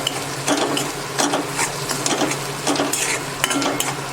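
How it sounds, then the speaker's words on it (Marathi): Papdi vegetable is sautéed in oil with Malvani masala, producing repeated close scraping and stirring strokes in a loose rhythm over a faint background sizzle. "थोडा वेळ तेलामध्ये व्यवस्थित परतून घेऊया आपण"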